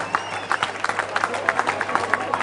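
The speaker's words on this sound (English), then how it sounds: "big round of applause" A fight-night crowd applauds fighter Marcos Oliveira at the ADFC event in Santa Cruz. Steady clapping and cheering carries the whole stretch at moderate loudness.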